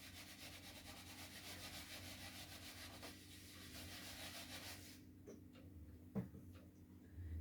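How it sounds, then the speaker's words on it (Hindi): A classroom board being wiped by rubbing, a rhythmic soft scrubbing swish for about five seconds, then quieter with a single knock and a brief faint rustle. "इसको रब कर देते हैं।"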